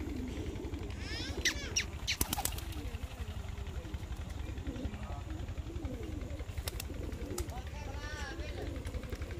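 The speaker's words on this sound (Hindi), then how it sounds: "कबूतर रखे हुए हमने, बहुत ही प्यारे और शौकिया पीस हैं।" Pigeons coo in low, throaty, repeated murmurs close by, mixed with a steady background rumble and occasional flutters.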